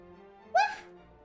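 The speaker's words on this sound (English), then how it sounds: "Really, really, really small woof?" A tiny dog lets out a single short, high woof in Dragon Quest XI, bright and brief over a quiet game backdrop.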